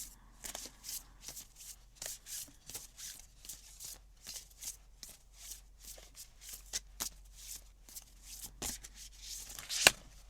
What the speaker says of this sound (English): Just taking a couple deep breaths while I shuffle these cards